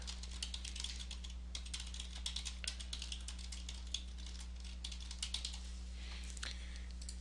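Soft, quick keystrokes on a computer keyboard while a comment is typed, a steady patter of clicks over a low constant hum, fairly faint and with no voices.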